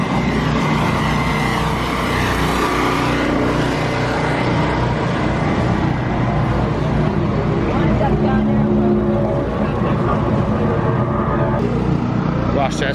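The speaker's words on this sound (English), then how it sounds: "And the first truck is on track." Race trucks running on track during qualifying at Las Vegas Motor Speedway, a dense continuous engine roar with passing surges throughout, mixed with crowd and ambient noise.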